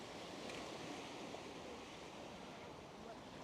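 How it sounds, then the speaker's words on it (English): Irish Sea waves breaking on the shore at Blackpool, a steady broadband wash of surf with some wind noise, continuous and moderately distant, no talk over it. "We've got the sea, the Irish Sea. Can you hear that?"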